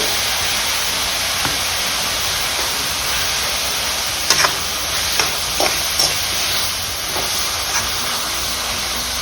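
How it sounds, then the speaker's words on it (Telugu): Ginger garlic paste frying in a pan for a dried seer fish curry gives a steady, fairly loud sizzling hiss, with a few spoon taps and stirring scrapes scattered through it. "కొంచెం అల్లం వెల్లుల్లి పేస్ట్ కూడా వేస్తున్నాను."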